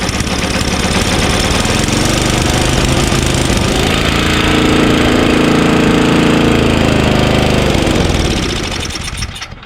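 An Ariens 524 24-inch two-stage snowblower with a 5 HP Tecumseh engine and a dirty carburetor runs steadily and loudly up close, its rough mechanical drone rising slightly in the middle before fading near the end.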